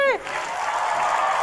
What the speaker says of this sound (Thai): มีเสียงปรบมือจากคุณผู้ชมด้วยอ่ะ